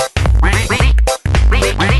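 Cartoon duck Pato quacking in a Pocoyo letter minigame: a run of loud, close, voiced quacks in two bursts split by a brief silence.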